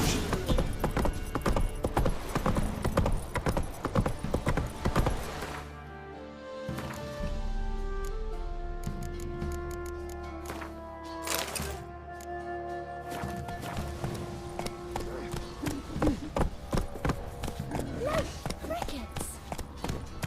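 Hooves of the horse Roach clopping along in The Witcher 3, a steady close trotting rhythm mixed with game music and ambience, with a voice speaking over it.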